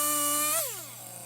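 A chainsaw cutting up a fallen tree on the ground holds a steady, buzzing engine whine, then slides down in pitch as the throttle eases off, loud and close.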